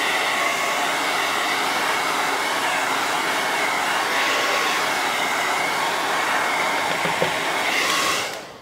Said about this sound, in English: let me hit this with a blow dryer so I make sure I don't smear stuff